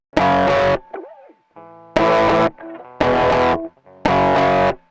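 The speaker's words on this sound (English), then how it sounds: "I think I'll use the distortion amp instead of the tube driver." An electric guitar played through a distortion amp effect on an Akai MPC One: four loud, heavily distorted strummed chords, each cut off sharply, with quieter single notes ringing in the gaps.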